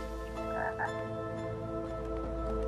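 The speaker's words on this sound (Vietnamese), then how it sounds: "Có con ếch ở đây, đặt vương miện lên." A giant crowned frog croaks in Lost in Play, two short rounded croaks close together over a steady game music bed.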